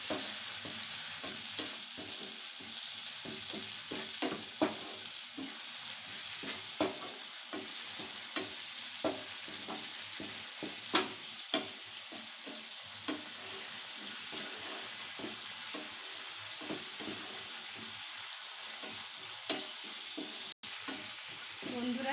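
Shrimp masala sautéing in a pan after a splash of water produces a soft, steady bubbling sizzle close by, with regular light stirring scrapes and taps throughout.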